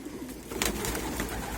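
Soft, low pigeon coos repeat briefly close by, with a faint rustle of wings and background ambience.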